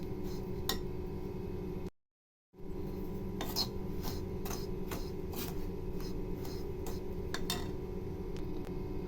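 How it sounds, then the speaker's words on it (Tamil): Rice flour and coconut being dry-roasted and stirred in a pan, a steady soft hiss with repeated light scrapes and clinks of the spoon against the pan, broken by a short silent gap, no talking. "இதையும் நம்ம நல்லா வறுத்துடலாம்."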